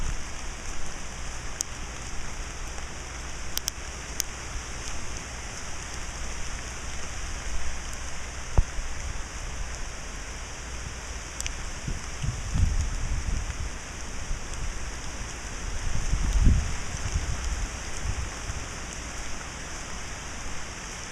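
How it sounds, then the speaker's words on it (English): Steady rain falling near Lake Moultrie, South Carolina, in the aftermath of Hurricane Dorian, a continuous hiss of drops with occasional low gusts and thumps, heard alone without voices. "it's starting to pick up a little on the rain"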